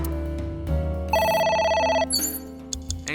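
A phone rings in AI: The Somnium Files, a loud electronic ringtone with bright, rapidly trilling tones that sound over the game's music, then cut off.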